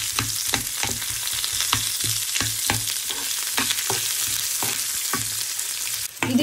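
Onion and chili fry together in a pan for paneer butter masala, giving a loud, continuous close-up sizzle broken by regular scraping stirs, with no voices.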